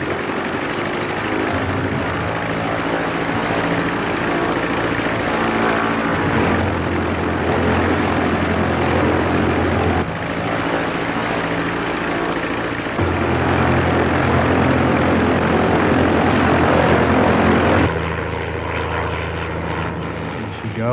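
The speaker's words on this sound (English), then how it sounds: "Has he done the dive with the engine full on yet?" An aircraft engine roars at full power through a dive, loud and continuous, with its pitch shifting in steps and easing near the end.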